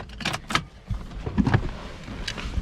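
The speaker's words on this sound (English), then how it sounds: "Motor in these windows, well, these cars are 16 years old. They sound very sick." Power window motors in a 16-year-old Holden Adventra, in poor condition, whir and strain in short uneven bursts up close inside the car, with a faint rattle between pulls.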